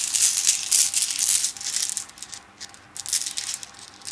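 Rune stones being shuffled by hand, a fairly quiet, close clatter of hard pieces rattling and clicking together in uneven bursts over a few seconds, with no talk.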